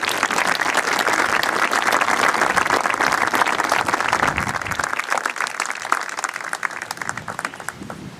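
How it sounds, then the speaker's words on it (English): A broad round of audience applause from the bleachers at a military academy's final parade honoring Air Force Junior ROTC instructors and cadets, steady dense clapping that gradually thins out toward the end. "Please give our Air Force Junior ROTC instructors and Cadet Corps a well-deserved round of applause."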